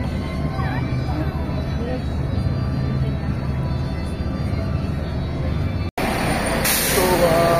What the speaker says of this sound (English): that's our bus, My Bus